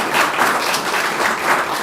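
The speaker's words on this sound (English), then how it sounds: "So let's give him a round of applause." A roomful of people applauding a retiring employee at a county commission work session, dense steady clapping for a brief moment.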